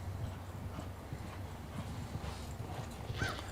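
Racehorse hooves clip-clop in a steady walking rhythm at a training center, close and moderately loud, with a faint snort or whinny near the end and no talk.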